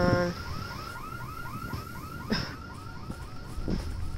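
Dead Island video game car alarm blaring in a steady rapid looping warble, mid-distance, with occasional thumps and game noises breaking through the repeating pattern.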